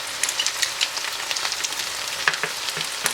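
Chicken crackles and sizzles in a hot pan as homemade Schezwan sauce goes in for restaurant-style Chicken Schezwan, a close, steady spitting fry with scattered sharp pops and no voices.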